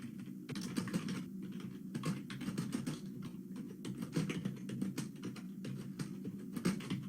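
Computer keyboard typing while code is written, a steady run of quick soft key clicks in irregular bursts, close and fairly quiet, with no talking.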